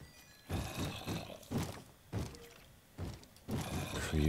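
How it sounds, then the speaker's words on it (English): Repeated Minecraft creeper explosions in a video game, about five muffled booming bursts spaced roughly every half second to second, fairly loud with noisy tails. "Just exploding on me, those creepers."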